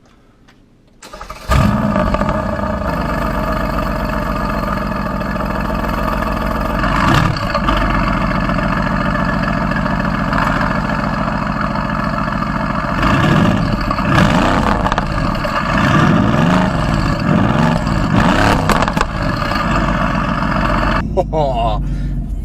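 A Mercedes-AMG car engine fires up after a moment of quiet, then runs at a continuous, fairly loud mid-pitched hum while driving, with occasional swells in revs.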